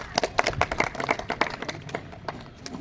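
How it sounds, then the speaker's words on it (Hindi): A crowd at an election rally in East Delhi claps in scattered, uneven bursts, close and fairly loud, tapering somewhat toward the end. "तालियां बजाओ मैडम के लिए।"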